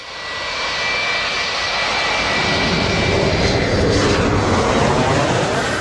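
Jumbo jet engines running at a steady loud roar that swells slightly, close and continuous with a thin high whine on top.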